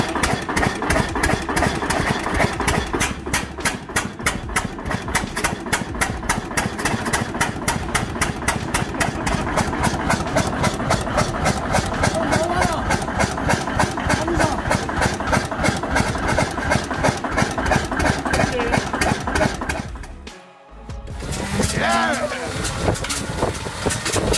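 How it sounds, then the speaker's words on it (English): A Pratt and Whitney R985 nine-cylinder radial aircraft engine of 985 cubic inches runs steadily and loud for most of the clip, with a rapid rhythmic pulsing drone, dipping briefly near the end before resuming. "its engine still runs strong"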